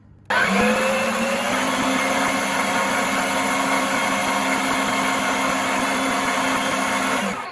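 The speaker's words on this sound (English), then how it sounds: "Now I've got 4 egg whites in the mixer. And we're going to turn it on and start mixing." An electric stand mixer whisks four egg whites for meringues, switching on abruptly and then holding a loud, steady motor whine with a constant high hum from start to finish.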